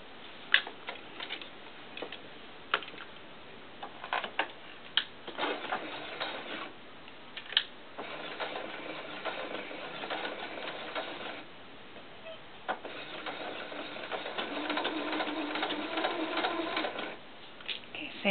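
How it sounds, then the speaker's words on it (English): A sewing machine stitches two pieces of doll coat fabric together, running in a steady, moderately loud mechanical whir with short pauses and faint ticks throughout. "all I want to do is sew that fabric, those two together"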